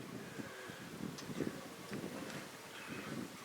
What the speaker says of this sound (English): Hearing that wind pick up